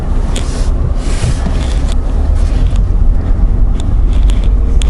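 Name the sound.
2019 Ford Ranger Lariat four-cylinder truck driving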